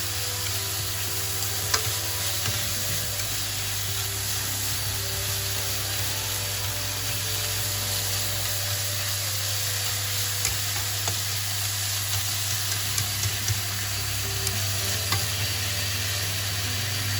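Beef, green beans and tomatoes stir-fry in a hot pan with a constant, close sizzle, broken by faint scrapes of steady stirring.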